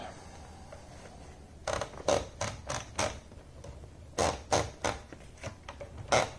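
Paper being fed into a Kappel VA typewriter, heard as a series of sharp mechanical clicks and ratchet-like creaks in irregular bursts, fairly close and quiet, with no talk.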